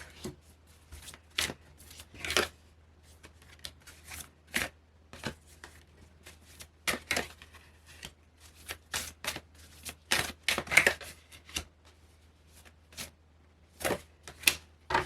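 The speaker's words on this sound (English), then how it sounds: "I'm also just going to pull some clarifying cards with this deck over here" A deck of tarot cards being shuffled by hand during a card reading, repeated crisp riffles and taps in short uneven bursts, close and clear over a faint steady hum, with no speech.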